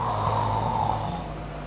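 A voice imitates the snoring of a sleeping person, with one drawn-out, rasping nasal snore filling the short stretch, close and fairly loud.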